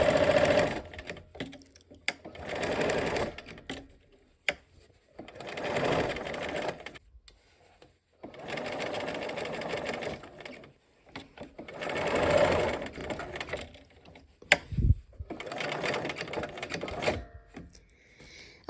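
Domestic sewing machine stitching a seam in fabric, repeated bursts of close rapid mechanical whirring that start and stop, with short pauses and small clicks between runs.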